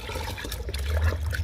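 Water is poured into a bucket and mixed with a liquid fertilizer made from fruit and vegetable peels, producing a brief, continuous, close-up splashing wash.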